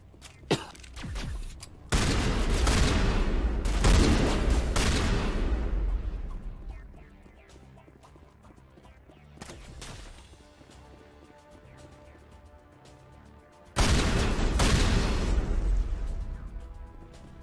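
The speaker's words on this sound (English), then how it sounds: "Did that explosion even reach him?" Loud explosions and bursts of gunfire from a Mass Effect 1 battle come in two heavy waves, separated by a quieter stretch with a few scattered shots.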